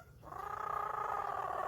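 A parrot mimics a cat with a single sustained, nasal meow-like yowl that swells in and holds steady, close and fairly quiet, with no speech.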